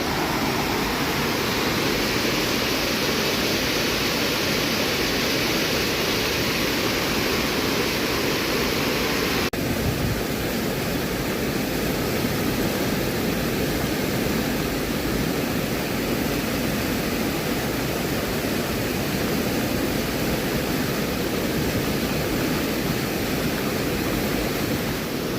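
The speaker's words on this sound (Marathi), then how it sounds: "माझा आवाज कदाचित तुम्हाला येत नसेल, कारण पाण्याचा आवाज खूप येतोय त्याच्यामुळे" Loud, constant rushing of a river in heavy monsoon rain in the Konkan, a dense unbroken roar of water filling the whole stretch with no voices.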